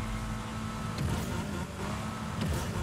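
Steady car engine drone from the Rocket Racing video game as the turbo kicks in, a continuous rising hum with a couple of brief whooshes, moderately loud with no talk.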